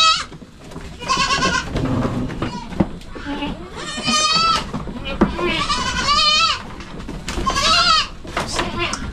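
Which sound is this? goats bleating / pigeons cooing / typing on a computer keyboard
goats bleating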